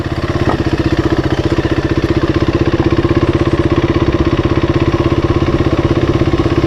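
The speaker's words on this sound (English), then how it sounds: "I'm trying to start the bike again. Started." A hot KTM motorcycle engine fires up and settles into a steady, loud, close-up idle with an even, rapid thumping pulse and no voices.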